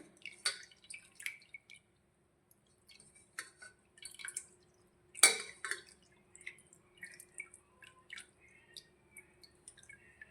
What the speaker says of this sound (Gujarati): આ રીતે કાણાવાળા વાસણની અંદર લઈ અને બધું જ પાણી કાઢી લઈશું